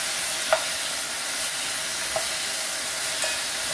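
Beef and radish stir-fry in a pot for Korean beef radish soup, a steady close sizzle with three brief clinks of a utensil against the pot spaced through the clip, no voices.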